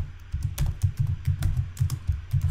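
Fingers tap quickly on a computer keyboard, a close run of irregular soft key clicks heard alone with no one talking.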